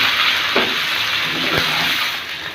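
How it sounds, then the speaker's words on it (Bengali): Hog plums stirred with whole spices like bay leaf and cinnamon in hot oil, a steady broadband sizzle with a couple of soft spoon scrapes, close and continuous with no talking. "এবারে দিয়ে দিচ্ছি আমড়া। এখন তেলের মধ্যে কিছুক্ষণ নেড়ে চেড়ে নিতে হবে।"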